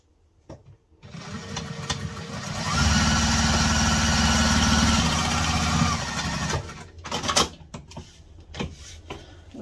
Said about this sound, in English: Now we are going to top stitch down from the edge the width stud in the pattern.